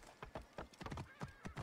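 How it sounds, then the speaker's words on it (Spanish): A horse in the game Assassin's Creed Origins trotting with quick, rhythmic clip-clop hoofbeats and a brief whinny, all quiet and distant-sounding. "Caballo."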